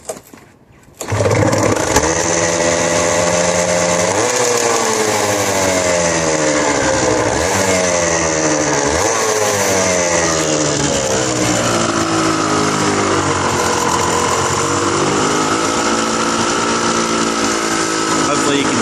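A Suzuki RGV250 two-stroke motorcycle is kick-started and fires up, then runs steadily at a slightly high idle with a loud, buzzing engine note, revving up and settling several times over about eighteen seconds.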